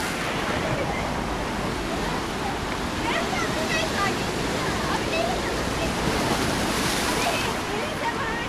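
Continuous rushing roar of sea waves surging and splashing onto the Tosmur promenade in Alanya, Turkey, with wind noise and a voice faintly in the background.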